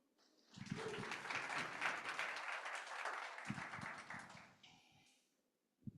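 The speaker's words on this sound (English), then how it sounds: "give a warm round of applause for Canary" An audience at a tech sprint event breaks into warm applause for a team named Canary, a dense burst of clapping that swells, holds for a few seconds and then trails off into scattered claps.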